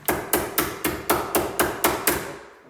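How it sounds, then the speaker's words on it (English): A hammer taps a chisel while fitting an entrance door lock: eight evenly spaced, sharp, close strikes in a steady rhythm, with no talking. "Just give that another tap with your hammer."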